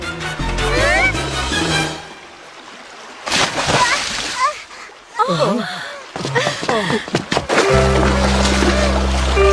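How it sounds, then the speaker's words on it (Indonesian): A cartoon splash as someone jumps into a river, a burst of water sound among lively musical cues and comic effects, with brief sliding tones and a busy animated soundtrack around it. "Ada yang melompat ke sungai."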